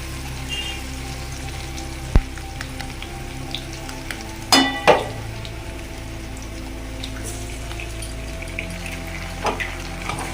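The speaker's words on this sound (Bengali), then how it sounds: "এই ডিমটা দিয়ে একটু ভালো করে ভেজে নেব, দিয়ে তখন পাস্তাটা দেবো।" An egg frying in a pan over vegetables gives a steady close sizzle, broken by a sharp tap and a short burst of louder crackling and spatter midway.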